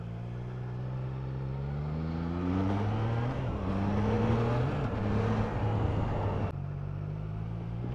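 A 2023 Triumph Trident 660 three-cylinder motorcycle revs up through rising gear pulls while riding, the engine tone climbing and dropping between shifts, close and steady with no talk.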